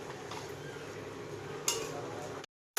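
Meat and tomatoes frying in a pan, a constant close sizzle with a brief scrape of stirring, then abrupt silence.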